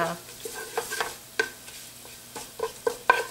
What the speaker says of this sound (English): we're gonna be frying this pepper flakes in the oil